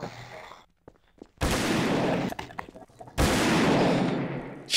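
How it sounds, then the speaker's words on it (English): Two heavy double-barrel shotgun blasts boom in the Garry's Mod game Trouble in Terrorist Town, each a loud sustained roar after near-silence, with a brief pause between them. "the double barrel shotgun is so powerful"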